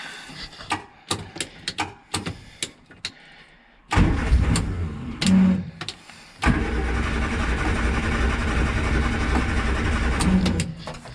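A 1967 Morris Minor car engine cranks with a run of sharp clicks and brief turns, then bursts into life and dies. It starts again and settles into a loud, steady close-up running drone, with no talk.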